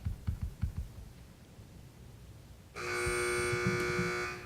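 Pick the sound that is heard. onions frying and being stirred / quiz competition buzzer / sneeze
quiz competition buzzer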